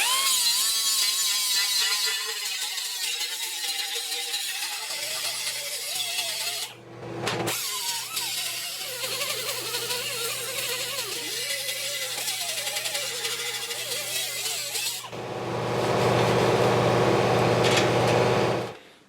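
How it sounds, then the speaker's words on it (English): A sanding disc grinds down welds on a sheet metal patch on the fender of a 1968 Mustang, a steady whining roar with shifting pitch, broken by a brief pause near the middle and ending in a louder, harsher stretch. "I want to take a sanding disc and just knock that down"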